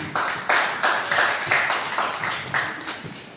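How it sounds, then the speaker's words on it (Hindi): A church congregation applauds in a run of rhythmic group claps, about eight to ten bursts, moderately close and steady, with no talking. "इस बात पे तालियां होनी चाहिए"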